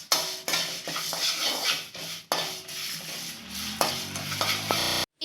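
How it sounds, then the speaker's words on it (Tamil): Ingredients for tamarind rice (puliyodharai) sizzling and frying in a pan, with repeated scraping and stirring strokes of a utensil, close and steady, a brief cut near the end. "கூடவே நம்ம மற்ற மூணுத்தையும் ஃப்ரை பண்ணிக்கலாம். இதையும் சேர்த்து ஃப்ரை பண்ணிக்கோங்க."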